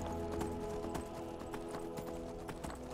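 A horse ridden through the mountains in the video game Skyrim clip-clops with a rapid, steady run of hoofbeats, close and fairly constant in loudness.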